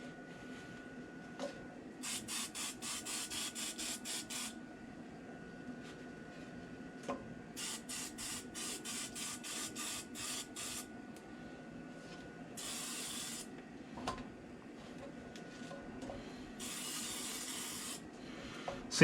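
A hand-pumped oil sprayer mists olive oil onto a sandwich in a kitchen, giving several rapid trains of short hissing spritzes followed by a couple of longer sprays, close and fairly soft.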